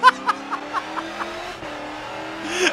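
A Ford NASCAR race car engine in the Forza 7 racing game revs and shifts repeatedly, then settles into a steady drone with tires squealing near the end; no voices during the run.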